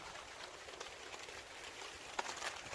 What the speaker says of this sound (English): Oh, I love the sound of rain.